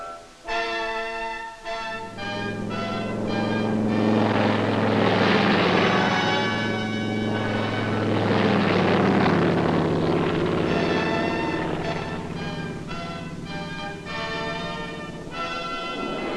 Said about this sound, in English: aircraft of the Chinese Air Force arrive over the primary drop zone